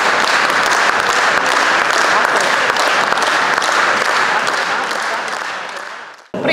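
Sustained applause and ovation for musicians and the composer Arturs Maskats at the close of a piece at a summer festival concert in Kazdanga, a dense steady clapping crowd that fades slightly before cutting off.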